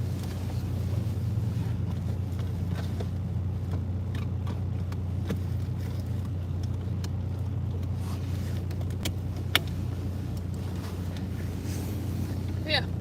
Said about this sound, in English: Let us know if the car's too loud.